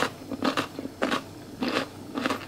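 Crunchy pickled cucumber is bitten four times in an even rhythm, each bite a close, crisp crunch followed by short quiet gaps, with no talking.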